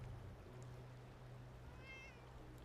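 A cat gives a single faint, brief meow late on, over a low steady hum of background noise.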